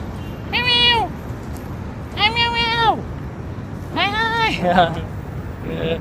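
Cats meow loudly and close by, three drawn-out meows at regular intervals followed by a shorter, higher mewing call.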